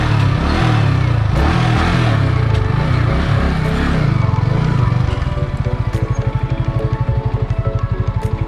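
A Yamaha R15 V3 motorcycle engine runs loudly up close, revving and rumbling at first, then settling into a fast, even idle pulse as the bike is turned around.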